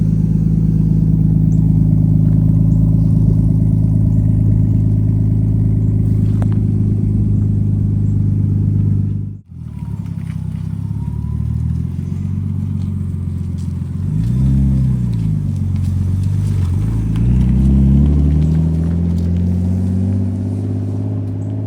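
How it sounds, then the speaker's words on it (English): A Nissan Skyline fitted with a full Tomei exhaust idles with a loud, deep, steady rumble, then briefly cuts out before the engine picks back up and blips through a couple of revs close by. "This thing sounds real good. Got a full Tomei exhaust."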